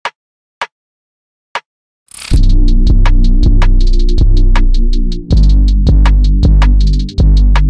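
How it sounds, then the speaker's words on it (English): A BWB Wave 4 snare layered with a rimshot sample starts with a few sparse, sharp clicks over silence, then a loud, booming beat begins, with crisp snare-and-rimshot hits repeating in a steady rhythm over deep sustained low tones. "when you combine the BWB Wave 4 snare with this Rimshot"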